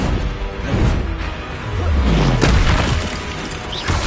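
A Confringo blasting spell exploding in Hogwarts Legacy, a heavy booming blast with a whooshing sweep and a sharp crack partway through, over continuous game sound.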